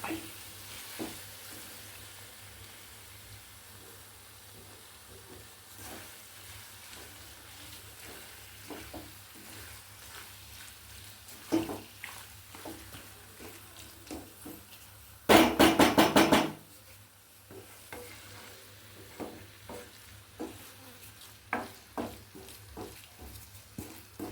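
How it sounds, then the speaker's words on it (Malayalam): Liver and onions being stirred in a frying pan with a steady low sizzle, punctuated by scattered knocks of the spoon against the pan and a brief louder burst of clattering and hissing midway. "ആ ലിവറും സവാള എല്ലാം കൂടി നന്നായിട്ട് ചേർന്ന് കിട്ടും വിധം ഇളക്കി കൂട്ടി ചേർക്കുക"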